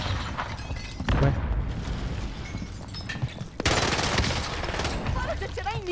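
Heavy, dense gunfire in Call of Duty Warzone, loud and near, with continuous shooting and blasts layered over a voice speaking Portuguese.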